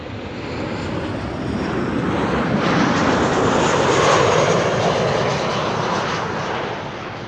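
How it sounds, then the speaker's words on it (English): A KLM Boeing 737-800 airliner arriving from Paris at Amsterdam Schiphol gives off a loud, steady broadband jet roar that swells gently and holds throughout, with no voices. "And this is KLM Flight 1404, arrived from Paris,"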